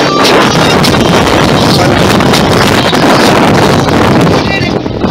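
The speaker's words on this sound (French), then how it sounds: "La mer est agitée parce qu'il y a beaucoup de vent." Strong wind over rough sea in Sosua Bay, Dominican Republic, roars steadily across the microphone, loud and constant, with a broad rushing noise like open water being whipped up, and a voice is faintly present.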